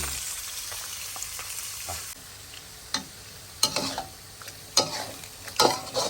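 Duck meat sizzling and stir-frying in a pan, with a steady hiss and occasional sharp scraping clatters as it is stirred.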